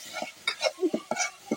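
Onions frying and stirred in a pan as they turn soft, with short bursts of scraping and clattering from a spoon against the pan over a light sizzle, close and uneven in rhythm.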